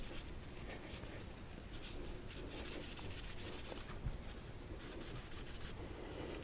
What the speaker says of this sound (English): just kind of wipe her down with a couple of dry patches there